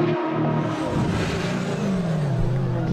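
A BMW and a Nissan drift car accelerate hard at the Croix-en-Ternois circuit, loud engine roar with a rising and falling pitch as they pull away, continuous and close, with no speech.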